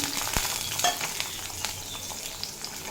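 Potatoes frying in oil with a nigella seed tempering, giving a steady close hiss with a few crisp spatters and light scrapes over three seconds, no voices.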